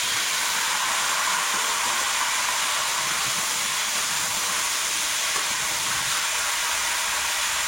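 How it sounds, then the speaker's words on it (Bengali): Pieces of elephant foot yam fry in hot oil with salt and turmeric, giving a loud, continuous sizzling hiss that stays steady and close throughout, with no talking. "এদিকে তেলের মধ্যে ওলটা দিয়ে দেবো"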